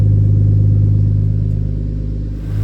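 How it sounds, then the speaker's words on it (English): A 1998 Nissan Skyline R34 25GTT idles with a loud, deep exhaust rumble, a steady low throb that dips slightly near the end before swelling again, with no talking. "Nice and deep exhaust sound."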